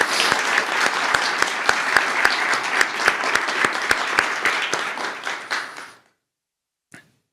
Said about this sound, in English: Please join me in a round of applause for Pat Stout.